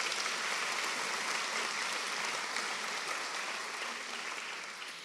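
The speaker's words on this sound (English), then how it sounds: "we might give her a round of applause" Audience applause at a graduation ceremony in a hall, dense, steady clapping from a large crowd that holds evenly for several seconds before easing slightly toward the end.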